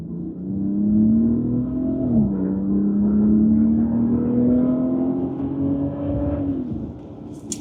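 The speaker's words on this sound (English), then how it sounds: "we are going to accelerate onto the highway here" A 2025 Ram RHO pickup in sport mode accelerates onto a highway in poor weather, its engine note rising steadily through one gear, briefly dipping at a shift, then climbing again before easing off, heard from inside the cab.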